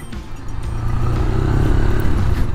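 A QJ Motor SRV 200 cruiser motorcycle pulls away at slow speed, its close engine note rising steadily and holding a low throbbing drone with no speech.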